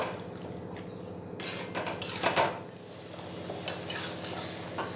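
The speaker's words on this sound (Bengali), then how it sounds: "দিয়ে ফুলকপির সাথেও মশলাটা আর একটু ভালো করে কষিয়ে নেব।" Spice paste frying with cauliflower and potatoes in a pan for a prawn curry, a close sizzle broken by scraping and clanking of a spatula stirring against the metal.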